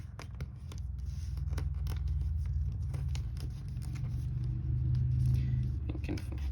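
Paper is creased and folded by hand while making an origami jet, giving soft crinkles and sharp papery snips scattered irregularly over a low background rumble.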